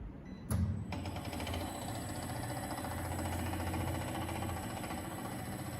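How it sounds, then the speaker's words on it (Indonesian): A three-phase induction motor on a remote-controlled training rig switches on with a sharp click and then runs in reverse with a quiet, steady hum and faint mechanical whine, continuous throughout with no talk. "Motor berputar."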